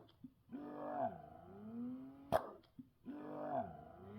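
A Legendairy Milk Imani i2 Plus breast pump runs in expression mode with long drawn-out suction cycles, a faint motor whine rising and falling in slow waves, with a brief click between cycles.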